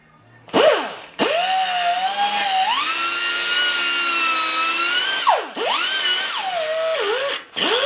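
An angle grinder bites into the ball joint of a Datsun 521 in loud, sustained bursts, whining up and settling into a steady grind, with brief stops and restarts near the end.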